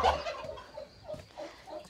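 A male turkey at a poultry farm in spring gobbles in a fast, warbling run that peaks at the start, then gives softer repeated gobbling calls from close by.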